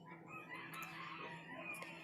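Hens cluck and murmur together in a henhouse as a story sound effect, a steady, moderately quiet flock chatter with a couple of sharper calls, no talking.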